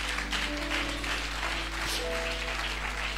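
A church congregation applauding for Jesus during a fasting and prayer service, a continuous mass of clapping with faint music tones underneath.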